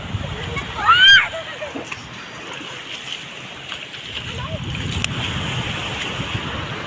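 Sea waves at a beach washing in as a continuous broad surf rush with wind buffeting the microphone, and a short whistling sound near the start.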